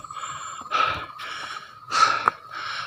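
Heavy breathing from someone climbing steep stone steps on the path up Gunung Adeng: several sharp, audible breaths in uneven bursts, close and fairly quiet over a steady faint background tone.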